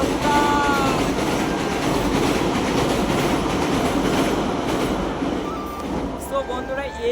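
A train crosses a bridge directly overhead near the Kopai river, producing a loud, continuous rumble and rattle of wagons that holds steady for several seconds, then eases slightly, with a few faint tonal squeals near the end.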